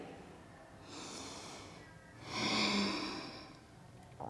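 Slow, deep breaths during a yoga pose: a soft inhale, then a longer, louder nasal exhale, close and quiet with no talking.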